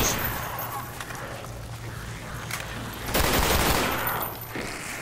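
Continuous rapid gunfire in Call of Duty Black Ops 1 Zombies, dense bursts that grow louder past the three-second mark, with a brief voice underneath.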